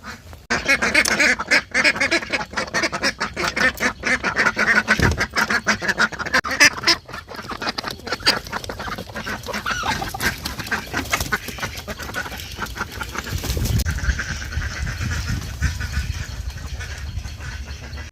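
Ducks quack repeatedly from beside their cage on a rainy morning, a steady busy chorus of nearby calls over rain and background noise, with no talk.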